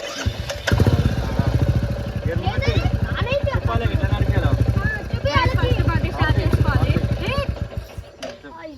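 A motorcycle engine catches and keeps running with a steady, throbbing idle close by, while voices talk loudly over it the whole time.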